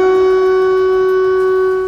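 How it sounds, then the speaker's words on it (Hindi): An air raid siren wails in Kyiv during a drone attack, a loud, steady, unbroken tone that holds its pitch for about two seconds and then begins to fade. "वहां रात भर सायरन बजते रहे"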